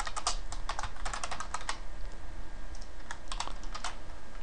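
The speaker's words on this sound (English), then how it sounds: "you see me type in some code" Rapid keystrokes on a computer keyboard as code is typed, close and crisp in uneven bursts with brief pauses, alone without talking.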